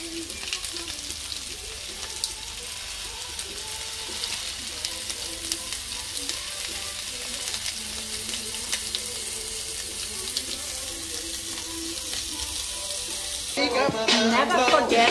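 Tofu with mushrooms and parsley frying in a pan, a steady soft sizzle with occasional stirring scrapes under intermittent talk, ending in a brief louder burst of voice.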